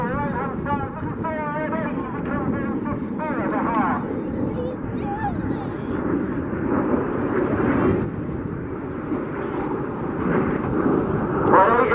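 RAF Red Arrows jets fly a synchro pair display at an air show at Duxford, a steady distant roar of jet engines continuing under a commentator's voice throughout.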